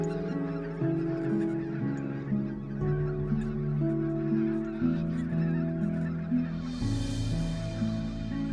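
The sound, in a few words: geese honking, greylag and white-fronted geese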